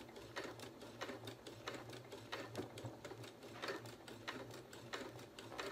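Domestic sewing machine stitching bias trim around the edge of a hand towel, a quiet, fast, even mechanical whirr with rapid rhythmic needle ticks running steadily throughout, close by and without talk.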